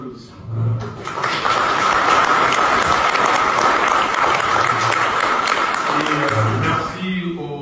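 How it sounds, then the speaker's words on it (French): A sustained round of applause from an audience at a formal gathering in a hall, cheering the organiser of a meeting, dense and loud for several seconds with voices mixed in, then tapering off. "il mérite des applaudissements"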